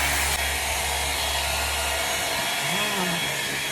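A hair dryer fitted with a diffuser attachment blows as a loud, steady whoosh throughout, close up and continuous, with a faint voice briefly audible near the end.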